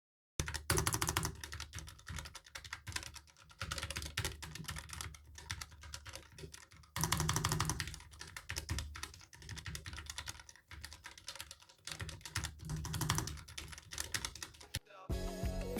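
Rapid typing on a Redragon K652GG wireless mechanical keyboard, close and crisp, with continuous clacking keystrokes in uneven bursts and a few short pauses, no talking.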